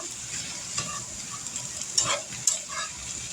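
Hamburger meat frying in a pan, a close, steady sizzle with a few scraping stirs and soft clinks of a utensil.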